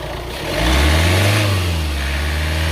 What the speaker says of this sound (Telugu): ఒకసారి ఎక్సలెటర్